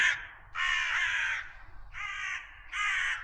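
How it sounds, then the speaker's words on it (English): Crows caw in a music track, four loud, harsh, close calls in an uneven rhythm with brief gaps between them. "Crows, not bad."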